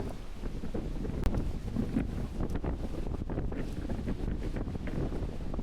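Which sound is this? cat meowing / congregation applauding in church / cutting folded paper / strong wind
strong wind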